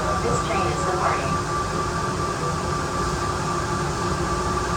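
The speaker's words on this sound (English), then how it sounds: "Welcome aboard the plane train. Please hold on. This train is departing." The Atlanta airport Plane Train people mover pulls away from the platform with a steady, loud rumble and rail hiss, while a recorded announcement plays over it.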